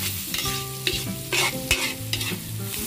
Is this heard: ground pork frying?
yes